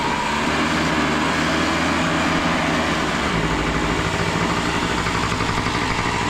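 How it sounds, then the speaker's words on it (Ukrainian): Old Japanese Honda Tact AF moped with a suspect carburettor idling close by, a steady buzzing putter whose pitch wanders up and down as the idle hunts, continuous throughout with no talk. "Холостий ход у нього гуляє, то багато, то мало."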